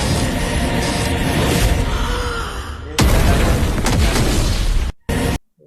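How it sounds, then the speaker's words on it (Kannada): Loud, dense booming blast effect in a meme edit, a sustained roaring burst that cuts off at about three seconds, then a second full-band explosion, followed by short broken bursts near the end. "ಬೇರೆ ಬಾಂಬ್ ಬ್ಲಾಸ್ಟ್ ಆಗ್ತಿದೆ"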